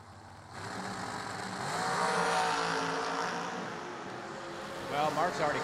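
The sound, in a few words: drag racing dragsters launching down the track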